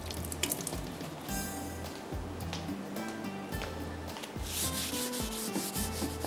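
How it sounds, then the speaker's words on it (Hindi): Raw chicken is rubbed and rinsed under running water in a kitchen sink, with a continuous wet scrubbing and splashing close by and occasional clatter. "इसको थोड़ा सा मैं गीला करके साफ़ करती हूँ यहाँ पर"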